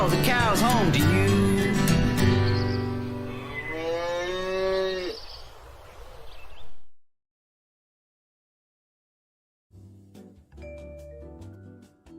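A cow moos loudly and long, a deep drawn-out bellow that rises and falls for several seconds, followed by silence and then faint low lowing from cattle.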